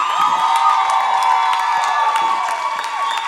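An audience at a French-language variety stage show bursts into loud, sustained applause with cheering and whoops, a dense wall of clapping filling the hall throughout.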